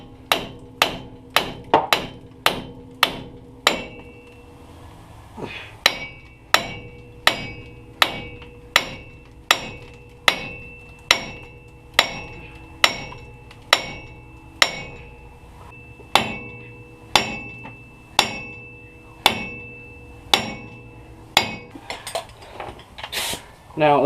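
Steady, evenly spaced metallic hammer blows on a ball joint of a 1999–2007 GM truck's front wheel bearing assembly ring out, loud and close, with a brief pause near the start before the strikes continue.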